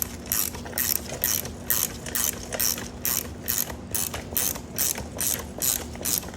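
A ratchet wrench cranks a coil spring compressor on the front strut of a BMW F30, with fast, even, close clicking that runs through the whole stretch.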